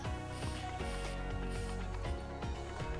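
CRC lubricant sprayed onto the wheels of a vintage Kirby vacuum cleaner, heard as a steady close hiss from the can over a background hum, with short rhythmic bursts repeating every half second or so.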